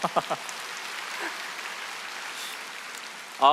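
An audience claps at a product presentation for a smart water purifier, a soft, rain-like patter of applause that holds steady in the middle. A voice speaks briefly at the start and again at the end.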